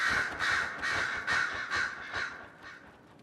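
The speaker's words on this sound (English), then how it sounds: "The birds are here." Crows in the video game Dragon Age: Inquisition caw loudly in a rhythmic series of about eight harsh calls, evenly spaced and fading slightly toward the end, with no talking.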